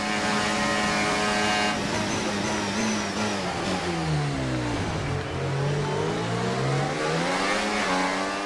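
A Formula 1 race car engine in the F1 24 video game screams loudly and continuously, dropping in pitch as it slows, then revving back up as it accelerates out of a corner.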